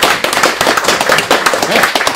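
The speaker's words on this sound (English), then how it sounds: "who I think deserves a round of applause" Audience applause at a comic fest panel in Enniskillen: loud, dense clapping from a crowd, steady and close, with no talk over it.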